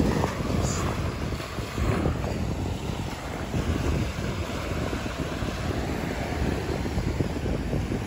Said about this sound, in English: Hear the sound of the waves.